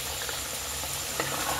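Masala spices with turmeric and chili powder frying in a pan for a village-style fish curry, a steady soft sizzle and bubbling with a few faint stirring clicks.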